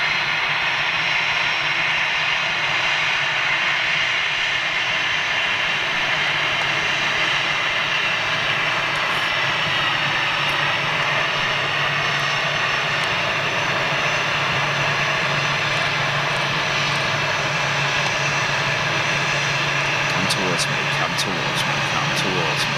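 An airliner with CF6 jet engines at Manchester Airport gives a continuous, moderately distant jet whine and roar, steady throughout with a hissy, tonal character; a voice speaks briefly over it.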